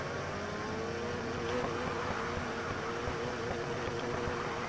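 The engine of a tuned R7 car in NFS Heat hums at a steady idle, a dense, even drone with a low rumble and no talk over it.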